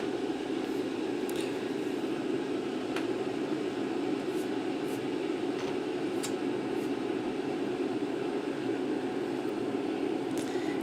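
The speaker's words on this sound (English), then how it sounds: "You can hear the water heating up now." Water heating in a kettle for coffee gives off a steady, even hiss and rumble that holds unchanged throughout, soft and close with a few faint ticks.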